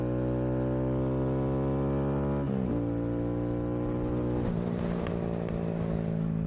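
A Honda Grom motorcycle with a backfiring exhaust runs close up with a steady droning engine note that drops in pitch twice, then gives sharp crackling pops and snaps toward the end.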